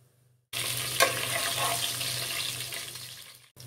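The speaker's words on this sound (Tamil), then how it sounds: "இதனுடன் எடுத்து வைத்துள்ள மசாலா பொருட்களை சேர்த்து வதக்கிக் கொள்ளலாம்." Masala spices dropped into hot wood-pressed peanut oil sizzle at once in a steady, close frying hiss after a brief silence, with a stir-like clatter near the start and a low hum beneath, fading slightly toward the end.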